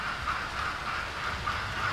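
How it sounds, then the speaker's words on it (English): A model train hums and rattles steadily along its track, a continuous mechanical whir with a faint rhythmic clicking. "the train's running"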